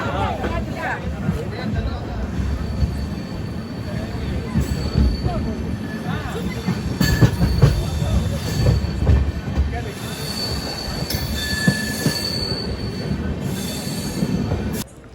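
An Amrit Bharat Express train on its inaugural run from Nagercoil Junction toward Hyderabad, a loud continuous rumble of wheels on rails with intermittent high squeals, heard from aboard with voices talking underneath.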